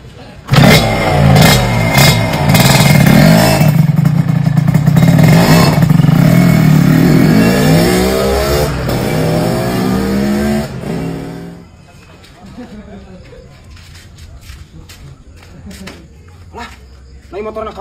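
A motorcycle engine revs loudly and close, holding a strong roar, then pulls away and fades into the distance, leaving quieter background noise.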